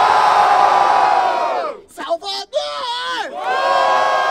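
A large crowd at a rap battle semifinal in Barueri, São Paulo, roars and shouts loudly, dips briefly while a voice calls out over it, then the cheering swells back up.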